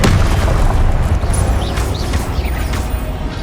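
Confringo blasts going off in a Hogwarts Legacy battle: dense, loud, booming low-end explosions layered with crackling bursts and mechanical clatter, continuous throughout with no pauses.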